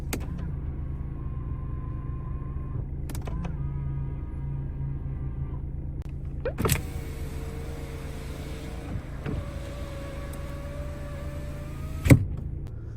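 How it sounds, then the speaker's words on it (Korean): Power folding side mirrors on a used car run with a steady electric motor whine in several stretches, joined by a few sharp clicks as they lock into place, with low cabin rumble underneath and no talking. "접이식 사이드미러"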